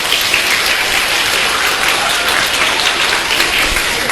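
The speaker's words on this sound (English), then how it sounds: "give yourself a round of applause" Large audience applause at a motivational talk, a dense, steady wash of many hands clapping at once, loud and continuous with no talk over it.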